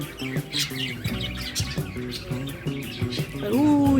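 Birds chirping inside an old house near the Rupnarayan river, a series of short tweets and calls repeating over a murmur of background voices, with a brief tonal sound near the end.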